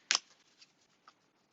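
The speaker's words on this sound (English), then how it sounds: "Sometimes it's just the way that I shuffle, the top ones fall out" Tarot cards are shuffled with one sharp riffle burst at the start, then soft scattered flicks and a couple of small taps, close and quiet, with no talking.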